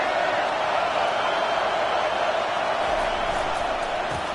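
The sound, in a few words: stadium crowd noise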